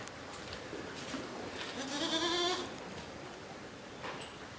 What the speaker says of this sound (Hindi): ये भी टेडी बकरी है।